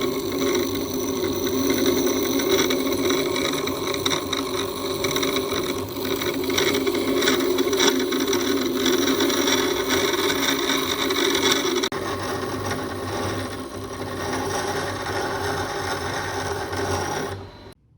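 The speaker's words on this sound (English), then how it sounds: "Then I proceeded to grind away the excess with my wet grinder." A wet grinder removing excess material from a custom single-layer Victorinox Swiss Army knife, giving a loud, continuous abrasive whir with a gritty rasp that holds steady almost throughout, then cuts off at the end.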